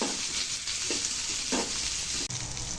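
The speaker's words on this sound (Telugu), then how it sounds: "ఫ్రై అవ్వనివ్వాలి." Onions, green chillies, curry leaves, cumin and ginger-garlic paste fry in a pan for rasam, giving a steady, loud sizzle broken by a few brief stirring scrapes.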